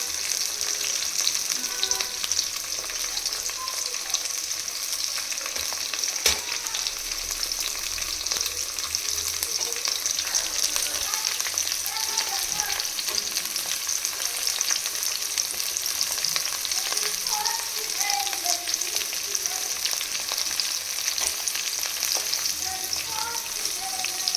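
Onions sizzle steadily in hot oil in a pan for vegetable hakka noodles, a dense, even frying hiss with occasional faint stirring scrapes, continuous and close throughout.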